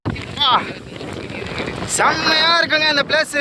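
Strong wind gusting through a canyon between hills near Thiruvakkarai, Villupuram, roaring and buffeting loudly against the microphone in a continuous rush while someone talks over it.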